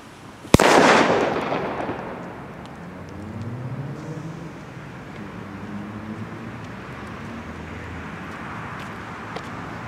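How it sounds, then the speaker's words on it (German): A Di Blasio Elio Cobra 3BP4 firecracker with a pre-burner goes off in one sharp, loud blast that trails into a fading rumble, with faint traffic noise behind it. "Also wirklich starker Böller mit dem Vorbrenner"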